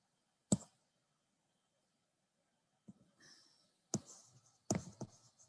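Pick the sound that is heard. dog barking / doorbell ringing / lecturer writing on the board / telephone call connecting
lecturer writing on the board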